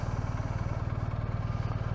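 A Harley-Davidson Sportster S engine thumps in a steady, rapid, even rhythm at close range on a cold day, with no talk over it.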